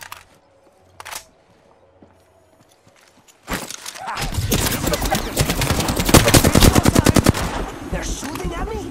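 Rapid video game gunfire breaks out after a quiet start, a dense burst of machine-gun shots and loud cracks that keep going to the end.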